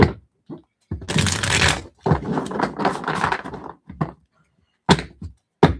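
Tarot cards are shuffled in repeated close, crisp riffling bursts separated by short pauses, with a few shorter shuffles toward the end.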